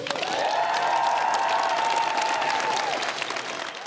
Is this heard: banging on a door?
no